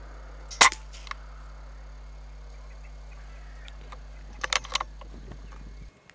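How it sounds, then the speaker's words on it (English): An air rifle fires a single close shot at a rabbit outdoors, a sharp crack near the start, followed by a few fainter clicks and rattles of handling a few seconds later. "All I need to do is get the rifle to my shoulder now and on target."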